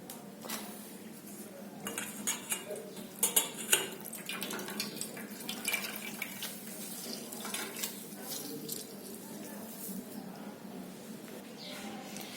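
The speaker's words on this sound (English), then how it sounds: "We'll squeeze out the water totally and we'll add it to this mixture." Soaked bread squeezed out by hand over a bowl while preparing a vegetable cutlet mixture, with wet splashing, dripping and clinks of kitchen vessels close by, continuous and moderately quiet.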